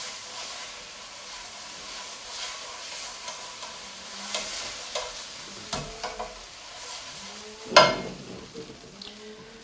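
Flour being stirred into a hot, sizzling pan to loosen the browned bits on the bottom: a steady soft frying hiss with intermittent scraping strokes and one sharper clank near the end, fairly quiet and close.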